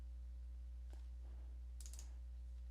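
A computer mouse double-clicks while Windows 10 services are being set up, two quick crisp clicks standing out near the end over a faint steady hum, with a few soft fainter clicks before them.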